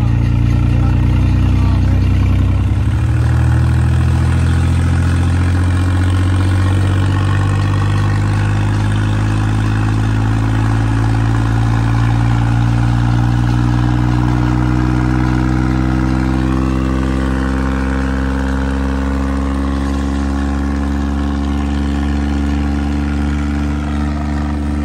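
A tractor engine idles with a deep, steady drone for the whole stretch, loud and near, and its pitch creeps slowly upward at times.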